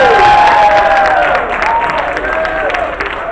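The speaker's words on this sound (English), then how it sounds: "Give them a round of applause" Audience at a college talk breaks into loud applause mixed with cheering and shouts, a dense crowd roar that holds steady and eases slightly toward the end.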